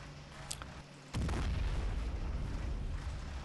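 Tank destroyer bombarding an enemy capture point in the war strategy game Men of War: a sharp blast then a heavy, sustained rumbling roar of artillery fire, loud and continuous with scattered crackling bursts.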